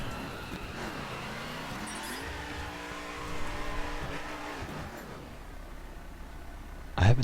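A Mercedes C63 AMG Black Series driven in The Crew, its engine rising and settling through gear changes at moderate volume, with a faint tire squeal and a sharp knock near the end.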